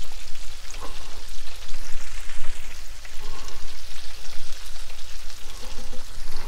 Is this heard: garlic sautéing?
yes